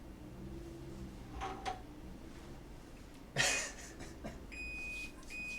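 An electric kitchen oven beeps as it is switched on: a few quiet knocks and a clatter come first, then a short run of clear electronic beep tones.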